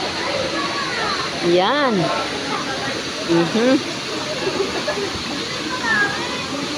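A steady rush of falling water fills the scene near a waterfall, holding constant and moderately loud beneath people talking and children's voices nearby.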